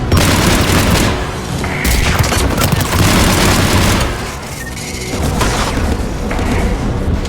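Anti-aircraft guns firing in Mass Effect 3 during the Quarian-Geth war: loud, continuous booming barrages with rapid thumping shots, close and dense, and speech mixed in.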